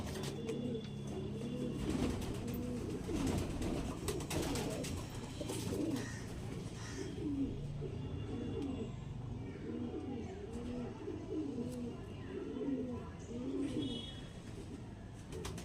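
Rhythmic pigeon cooing repeats steadily throughout, low and throaty, with faint chirps and background noise around it.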